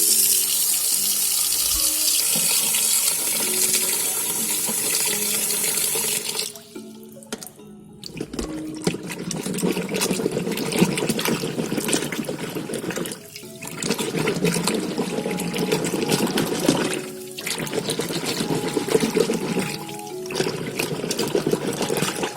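Taro root is rinsed under a running kitchen tap, water splashing steadily into a sink with short pauses as the flow is interrupted, close and fairly loud.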